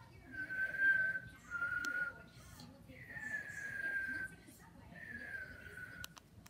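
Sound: whistling

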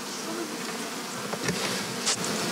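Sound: honeybees buzzing around a hive

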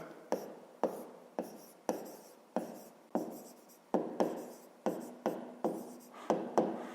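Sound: writing by hand on paper

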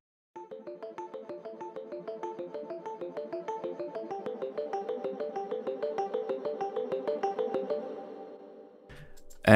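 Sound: synth mallet sound from Serum

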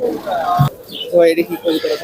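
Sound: pigeon cooing at a pigeon market

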